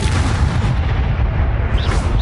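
An Incendio fire spell from the Hogwarts Legacy video game bursts out as a loud, dense, booming blast, with continuous rumbling low-end energy filling the whole short moment, alone without talk.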